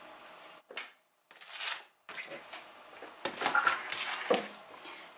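Close scraping and clinking of a utensil mixing thick kefir pancake batter with chopped green onions in a bowl, in uneven bursts separated by brief pauses.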